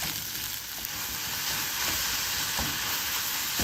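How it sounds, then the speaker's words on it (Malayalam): Onions sauté in a clay pot on low heat for a pepper liver fry, giving a steady, even sizzle and hiss with soft stirring scrapes, close up and uninterrupted by speech. "സവാള ഏകദേശം ഒരു ബ്രൗൺ കളർ ആവുന്നവരെ നല്ല രീതിയിൽ വഴറ്റുക"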